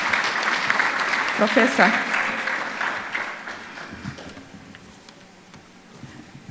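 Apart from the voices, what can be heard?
applause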